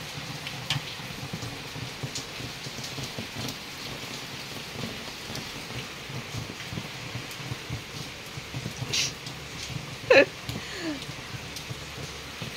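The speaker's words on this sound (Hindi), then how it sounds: "वर्षा वर्षा वर्षा" Heavy rain falls steadily as a dense, even hiss, with a few louder drips and a brief knock near the end, continuous throughout.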